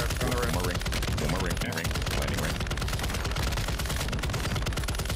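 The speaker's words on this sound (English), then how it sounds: "The guys shooting behind us are down." Warzone 2 gunfight with rapid automatic bursts crackling in dense, fast rhythm throughout, close and loud, while players talk over the shooting.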